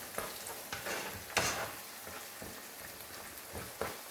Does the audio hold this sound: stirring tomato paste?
yes